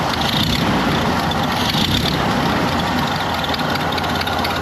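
A 1931 Ford Model A engine idling steadily after being restarted and having its carburetor adjusted, a continuous loud, close rumble with no talking.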